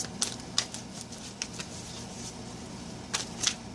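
A deck of tarot cards is shuffled by hand, giving soft, irregular riffles and light slaps that recur in small bursts over a quiet background with no talking.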